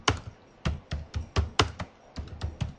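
Keys tapped on a computer keyboard while typing text into a web form, about a dozen close, crisp clicks in an uneven rhythm with no talking.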